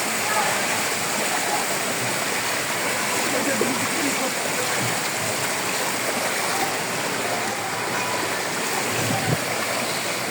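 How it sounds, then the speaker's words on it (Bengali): Someone wades through knee-deep floodwater on a road in Chattogram, a continuous rushing, swishing churn of water close by, steady and loud, with faint splashes. "আমিও হেঁটে যাচ্ছি হাঁটু পানিতে।"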